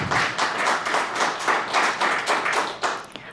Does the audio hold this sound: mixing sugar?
no